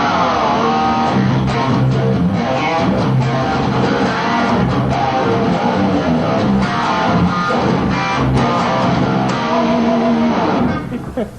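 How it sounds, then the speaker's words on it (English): Heavy thrash chugging on a Steinberger guitar, its tremolo lowered and locked into a lower key: dense, distorted palm-muted riffing that stays loud and continuous throughout, with no voices. "take the trem down and lock it into a lower key and just chunk away a real heavy thrash"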